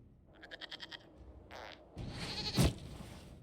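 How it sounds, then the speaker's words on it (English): A goat bleats in a fantasy video game cutscene, giving a quavering, pulsing cry, then a rougher noisy burst and a thump close up. "we discovered this man attacking the building with a"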